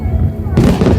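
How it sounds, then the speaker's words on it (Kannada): Fireworks bursting over Hong Kong harbour, heard as a dense, loud boom and rumble that swells halfway through, with crowd voices mixed in. "ಫೈರ್ ವರ್ಕ್ ಚೆನ್ನಾಗಿದೆ, ತುಂಬ ಚೆನ್ನಾಗಿದೆ"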